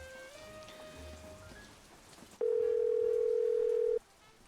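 A phone in the Nancy Drew video game Legend of the Crystal Skull gives one steady, loud electronic ringing tone lasting about one and a half seconds, standing out above a quiet game background.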